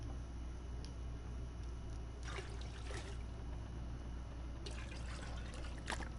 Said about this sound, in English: God bless the toilet water.